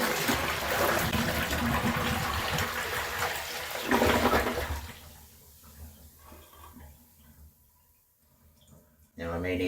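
A Kohler Trent bucket toilet flushes with a loud rush of water that swirls and drains over several seconds, fading to a quiet trickle, ending with a sharp clunk.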